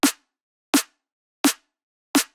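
Drum and bass snare drum, layered with a top snare for texture: four crisp, bright cracks evenly spaced, each short and snappy with a quick tail, alone with no other sound.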